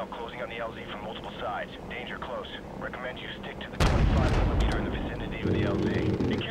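Heavy artillery and gunfire in Call of Duty 4, booming blasts with a sudden loud eruption partway through, then continuing rumble and shots, while a radio voice talks over the battle.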